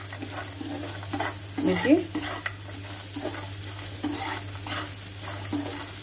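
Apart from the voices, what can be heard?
peanuts frying and being stirred in a pan for tomato poha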